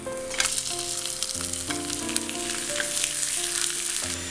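A vegetable wrap crisps on a hot pan like a chapati, giving a steady, close sizzle and frying hiss throughout, with soft background music underneath.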